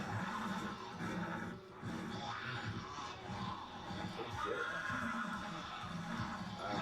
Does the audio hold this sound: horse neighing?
yes